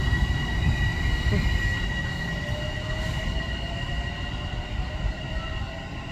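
An Amtrak P32 locomotive rolls past on the Riverdale line with a steady rumble, rail hiss and a thin wheel squeal. It stays close and loud throughout, with no clear voices.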